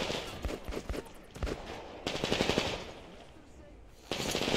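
Two teams trade gunfire in the first-person shooter Metro Exodus: Enhanced Edition, with rapid automatic bursts and single loud shots, and sustained stretches of firing separated by brief lulls.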